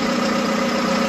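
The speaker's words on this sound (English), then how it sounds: "There's your three-point hitch going up." A John Deere 6230 tractor engine runs at a steady idle while its three-point hitch rises, giving a constant, close mechanical hum with no breaks.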